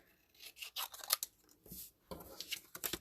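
Scissors snip through paper while fussy cutting simple shapes, a run of short crisp cuts in quick bursts with brief pauses between them, close and fairly quiet.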